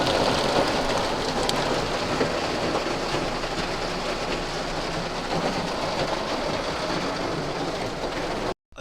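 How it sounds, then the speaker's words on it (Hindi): Rain and snow falling outdoors in the mountains at Munsyari, a steady broadband hiss holding even and moderately loud throughout before cutting off abruptly at the end. "ये देखो बारिश आ गई, बर्फ पड़ गई।"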